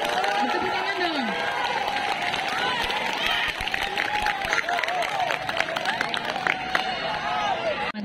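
Audience applause at a student council (OSIS) candidate event, steady clapping and crowd noise filling the whole stretch, with voices and cheers mixed in over the hubbub.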